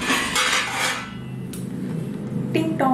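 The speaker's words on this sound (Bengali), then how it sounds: "সবার আগে প্লেট নেব একটা" A plate is taken out for a home meal, with clattering of dishes and cutlery at the start, then a quieter pause and a sharp clink near the end, all close by.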